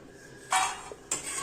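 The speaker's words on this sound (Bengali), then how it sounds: "ভাজা হয়ে গেলে বড়িগুলো এবার তুলে নেব।" Fried lentil bori being lifted out of a pan with a metal spoon, two short, sharp scraping clinks against the cookware, close and distinct, with a faint light clink between them.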